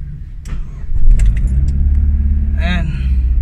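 A Chevrolet Aveo with a stall problem when the AC is on cranks and fires up close by, settling into a loud, steady idle with a brief whine as it catches, under a voice.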